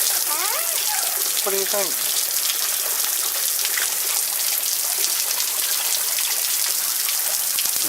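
Artificial rain from a hose-fed rain machine patters steadily onto a canopy of Monstera leaves, a dense continuous hiss of falling water throughout, with a voice speaking briefly near the start.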